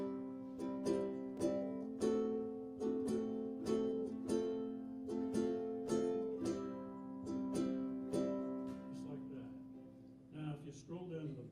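Ukulele strums the intro to a song: steady, bright chord strokes in an even rhythm, close and clear, ending in a softer flourish and a few looser notes.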